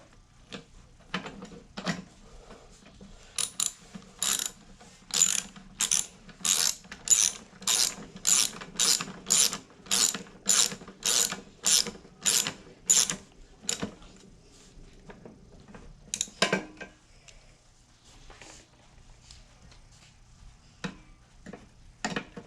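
Ratchet wrench clicking as two bolts are driven back onto a Briggs and Stratton carburetor, a long run of rapid, evenly spaced clicks followed by a pause and a few slower separate clicks, close and alone.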